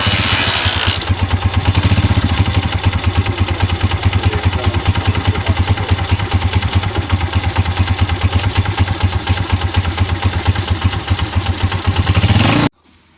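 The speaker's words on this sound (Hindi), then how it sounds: "हमारी मोटर बाइक बिल्कुल अच्छे से स्टार्ट हो रही है" A Honda CG 125 motorcycle engine, with a previous starting and misfiring problem, fires up and settles into a loud, steady, clattering idle with rapid even pulses close by, then stops abruptly.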